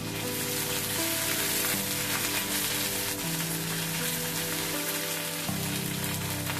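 Ginger and green chili paste sizzling in hot oil in a pan, a dense, steady crackling hiss like heavy rain, loud and close throughout with a low background hum and no talking.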